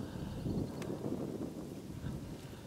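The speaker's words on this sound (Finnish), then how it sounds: "Tuuli heiluttaa tätä niin paljon." Wind blows outdoors in spring, a rough continuous rumble buffeting the microphone with faint rustling and an occasional brief click.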